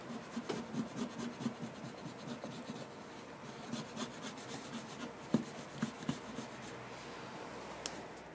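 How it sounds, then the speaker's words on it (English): A wood chisel carves wood close by, making a steady series of soft scraping and rubbing strokes with a few sharper ticks, and no voices over it. "Just go slow. Make sure you keep positive control of that chisel"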